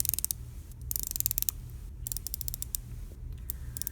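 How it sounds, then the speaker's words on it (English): A ceramic bezel on a 2018 Tissot Seastar 1000 dive watch being turned, giving close, faint runs of quick ratcheting clicks in several bursts separated by short pauses. "this definitely makes for an easy grip as you turn the bezel, and that clicking"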